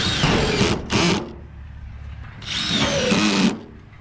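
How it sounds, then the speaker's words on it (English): A power drill pre-drills holes in metal roofing sheets on a small log cabin, two short close whirring bursts followed by a longer high-pitched drilling run, with quieter gaps between. "And it's so much nicer when you pre-drill these holes."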